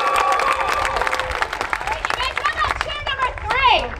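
Outdoor crowd applauding at a renaissance festival circus show, clapping and scattered cheers beneath a loud announcer's voice, with children's voices nearby.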